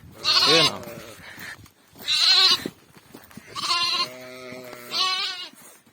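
Young lambs bleat in a livestock pen, four loud, close, quavering cries spaced a second or so apart, with no talking.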